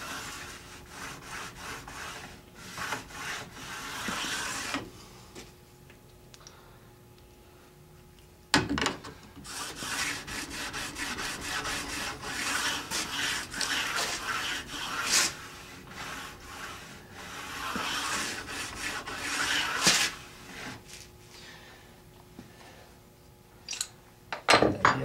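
A ski's base edge is sharpened with a 400 grit stone, making a steady run of rasping, rubbing strokes at close range, with brief louder scrapes and short pauses between passes.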